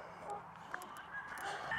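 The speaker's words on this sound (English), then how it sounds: "Out here with the laughing chickens." Chickens outdoors give short, honking, cackle-like calls that sound almost like laughter, several scattered notes over a steady background hum at moderate distance.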